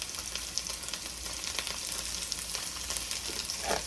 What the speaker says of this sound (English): We're gonna put them in hot grease. Oh, real hot grease.